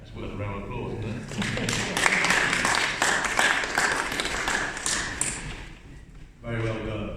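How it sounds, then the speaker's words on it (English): Audience applause at a memorial gathering, a broad wash of clapping that swells and holds steady for several seconds before easing off, with a voice speaking briefly at the start and end. "That's worth a round of applause, isn't it?"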